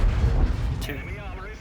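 A tank gun firing in the video game World of Tanks, one heavy booming shot followed by a short rumbling tail, loud and close, with a voice speaking over it.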